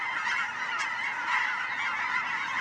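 A rowdy chorus of Canada geese honks in continuous overlapping calls, a dense, loud flock steady throughout, arriving over fields and wetlands on Sauvie Island, Oregon.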